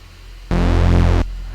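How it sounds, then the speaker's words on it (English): A basic reverberant space sound made with Bitwig's built-in plugins swells in abruptly, holds as a dense, loud, washed-out tone for under a second, then cuts off and leaves a soft tail. "take a basic respace that sounds like this"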